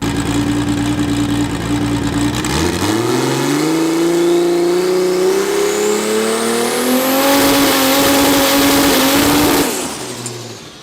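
A drag car's engine holds on a two-step against the trans brake, then rises in pitch as it pushes through and builds to a loud high rev before cutting off near the end, harsh and close throughout.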